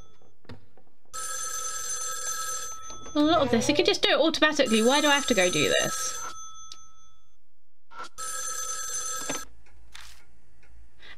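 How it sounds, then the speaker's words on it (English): A telephone rings in bursts in the video game Spirit Hunter: NG, a bright electronic trill repeating near and loud in three spells separated by silence, with someone talking over the middle one. "Are we supposed to answer the phone?"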